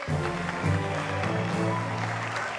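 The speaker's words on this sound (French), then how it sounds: "Allez, on va encore applaudir très fort, s'il vous plaît, Muriel Blanche qui est là." A studio audience on a French television show applauds a guest, a steady, fairly close wash of clapping hands with a low murmur of voices underneath.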